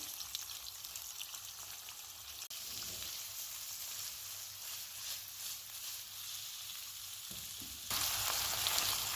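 Onion and a bay leaf fry in oil in a pan, giving a steady close sizzle with a soft crackle throughout that grows brighter and louder near the end, with no talking.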